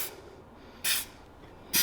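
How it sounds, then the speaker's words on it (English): Dry graphite lube sprays in two short, loud hissing bursts from an aerosol can onto mini bike brake and engine parts, separated by a pause. "I go ahead and I spray those parts"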